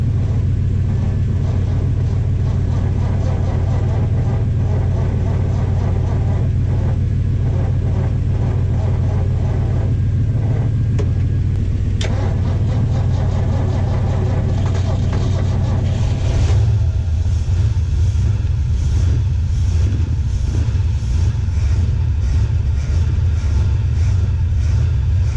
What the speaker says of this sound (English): At least it's cranking now